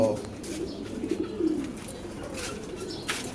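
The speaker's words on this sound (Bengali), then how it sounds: "কবুতর ভয় পায়।" Pigeons cooing on a rooftop, low soft coos repeating near the start and middle against faint outdoor background, with light rustling and no clear speech.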